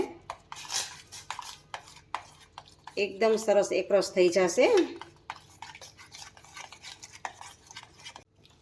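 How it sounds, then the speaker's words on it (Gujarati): A spoon stirs wheat flour khichu dough in a pot, giving soft scraping and tapping knocks in an uneven rhythm, under someone talking. "તો હવે આને આપણે સારી રીતે હલાવવાનું છે"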